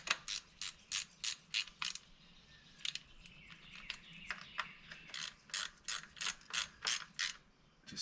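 Ratchet snugging bolts on a Toyota Corolla charcoal canister mount, rapid bursts of clicking pawl strokes in repeated rhythmic runs with a short pause midway, close and crisp, no talk.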